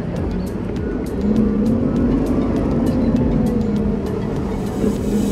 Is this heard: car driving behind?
yes